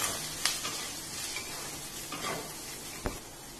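Carrot and capsicum with salt are stirred in a hot pan, a soft continuous sizzle overlaid by a few scraping and tapping strokes of the spatula, close and fairly quiet, with no voices.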